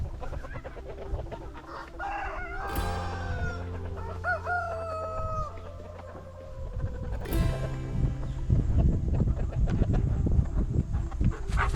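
Brahma chickens cluck and squawk on a farm while a rooster crows loudly twice, with steady background bustle and some thumping or shuffling that grows busier toward the end.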